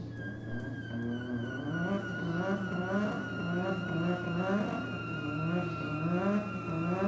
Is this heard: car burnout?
yes